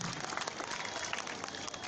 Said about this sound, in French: Applaudissez pour vous-même. Applaudissez.